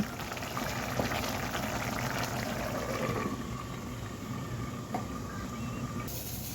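A tomato curry simmers under a lid as its water boils off, a continuous quiet bubbling and gurgling with a few soft clicks, steady and low in level.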